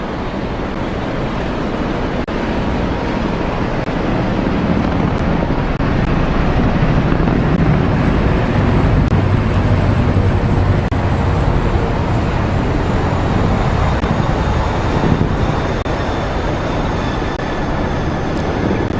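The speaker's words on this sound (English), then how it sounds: "massive, burdensome aircraft, the 3 Chinook helicopters with 1 Puma" A continuous heavy roar of three Chinook helicopters and a Puma HC-2 passing overhead, loud and unbroken, with a deep rumbling wash throughout.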